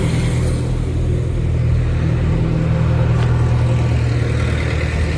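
A goods vehicle idling at a warehouse, a loud deep engine rumble with a steady low throb close by, holding constant throughout.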